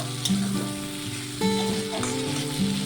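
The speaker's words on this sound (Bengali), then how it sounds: "মাছটাও কিন্তু একটু ভাজা হয়ে এসেছে, এখন দিয়ে দেবো দুটো টমেটো কুচি। টমেটো দিয়েও একটু নেড়ে চেড়ে নেব।" Fish and chopped tomato frying in a pan for a shrimp and greens chorchori, a steady close sizzle with stirring scrapes throughout, no talk.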